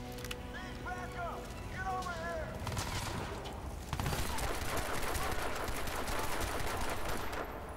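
Pistol shots ring out in a Crysis 2 firefight, a busy run of quick reports amid other combat noise and whistling effects, with someone talking excitedly over the action.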